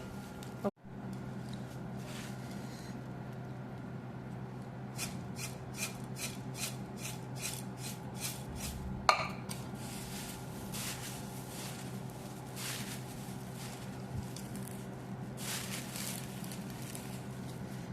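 A puffed rice mixture with peanuts being shaken in a capped container: two runs of quick, rhythmic dry rattling bursts, fairly close but soft, separated by stretches of quiet hum.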